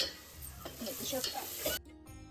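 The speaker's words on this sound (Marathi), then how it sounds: "आता हा कट आपण याच्यात ओतून घ्यायचा मसाल्यामध्ये" Dal stock poured into sizzling fried masala in a pan for a Marathi festive veg thali: a steady close hiss and stirring clatter that cut off abruptly near the end, leaving a quieter low bubbling.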